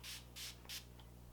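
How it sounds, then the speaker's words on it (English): A facial mist spray bottle is pumped three times in quick succession toward the face during a nighttime skincare routine, each short hissing burst clear and close, followed by a faint soft tap. "I will spray my face one more time"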